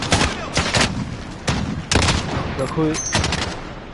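Video game gunfire cracks out in several loud bursts and single shots, with a few electronic tones mixed in, while someone speaks briefly in French.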